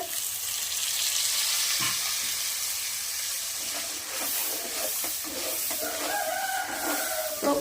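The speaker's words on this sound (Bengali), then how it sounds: "লঙ্কার গুঁড়োটা ভালো করে নেড়ে চেড়ে দেবো" Chili powder being stirred into frying desi chicken curry with potatoes, a steady close sizzle with scattered scraping stir sounds; a rooster crows faintly in the background.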